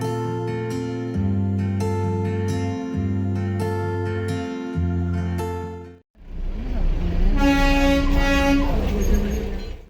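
The Darjeeling toy train rumbles close by with a long, steady horn blast, followed by a noisy surge of engine and track sound.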